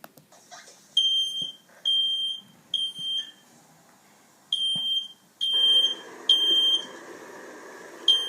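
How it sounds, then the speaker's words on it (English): A home smoke/fire alarm sounds repeated shrill electronic beeps in bursts of about a second, separated by short gaps, loud and close with no speech. "you hear the ringing fire alarm sounds"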